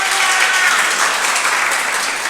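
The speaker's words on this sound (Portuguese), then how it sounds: "Salva de palmas para ele." A congregation at a church cooperators' meeting giving a loud round of applause, continuous dense clapping sustained evenly throughout, close and full.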